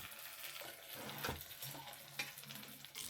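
Eggplant slices fry over low heat in a pan, a soft, steady sizzle heard up close with a few brief clicks and scrapes as the pieces are handled.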